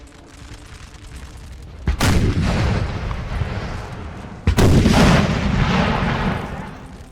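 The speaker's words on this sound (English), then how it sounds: "Is that 9-pounder going to start firing again?" Cannon fire from a 9-pounder field gun in the Napoleonic battle game Napoleon Total War at A Coruna: two loud booming shots a few seconds apart, each rolling out into a long rumbling decay.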